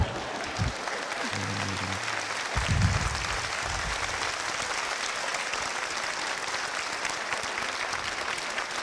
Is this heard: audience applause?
yes